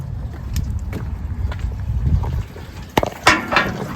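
Electric fuel pump on a 1994 Ford F150 4x4 runs with a low churning hum and a liquid gurgle while draining, joined by a few sharp clicks and bumps near the end.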